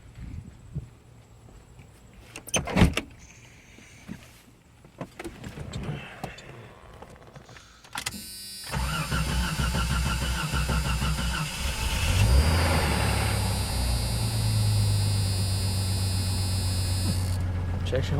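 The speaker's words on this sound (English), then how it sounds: "let's start it up one last time just to see how she purrs." The 4.0L inline-six of a 1989 Jeep Cherokee cranks and catches after some handling noises and footsteps, then settles into a loud, steady idle nearby that rises briefly and holds.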